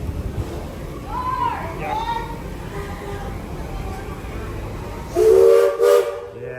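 A steam train whistle at the Magic Kingdom railroad sounds in two short, loud toots near the end, following a stretch of crowd chatter and ambient park noise with people talking nearby.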